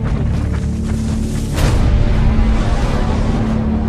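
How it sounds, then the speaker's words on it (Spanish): A deep, sustained rumbling roar of a supervolcano eruption explosion, loud and continuous, swelling stronger partway through with a dense low-end boom and hiss layered over it. "La explosión comienza a gran profundidad en el subsuelo."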